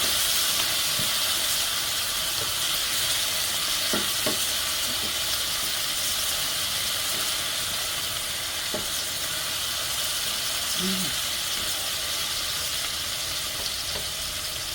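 Hot and sweet peppers fry in a pan for Jamaican ackee and saltfish, giving a constant loud sizzling hiss close up, with occasional faint clicks and taps of utensils.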